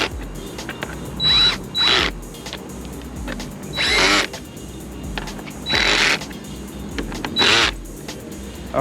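A power drill slowly drives screws into a motorcycle windscreen in four separate bursts of whirring, each a second or so long, with quieter handling noise between; close and fairly loud, no talking.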